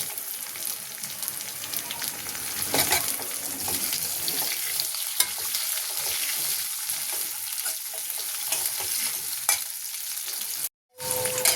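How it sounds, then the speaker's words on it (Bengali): Potatoes fry in a pan with browned garlic and onion, giving a steady close sizzle and crackle with stirring scrapes throughout, cut by a short silent gap near the end. "রসুন পেঁয়াজটা ভাজা ভাজা হয়ে গেছে, এবার দিয়ে দেবো আলু।"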